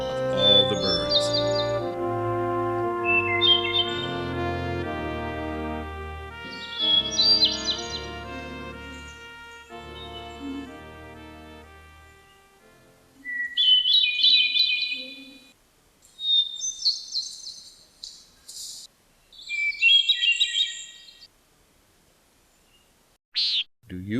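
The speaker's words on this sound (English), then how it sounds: "That is why the hermit thrush is so shy, and that is why his song is the most beautiful song of all the birds." A hermit thrush sings a series of clear, fluting phrases separated by pauses, with higher trilling notes following later, heard alone and moderately faint.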